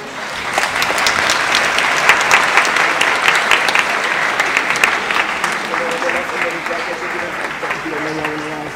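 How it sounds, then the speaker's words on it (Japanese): Sustained applause from an audience fills the clip, steady and fairly loud, with a faint tone or voice emerging near the end. "大きな拍手をお願いします。"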